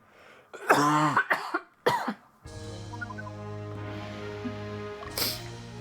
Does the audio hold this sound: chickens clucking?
no